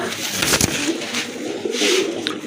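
Pigeons offered for sale at a bird market, including a crested one, coo in a few soft, throaty bursts close by, with faint background noise between calls.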